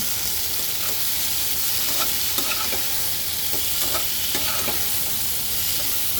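Tengra fish curry with potatoes and salt being stirred in a sizzling pan, a steady frying hiss broken by intermittent scraping clicks of the spoon, close and unbroken by talk.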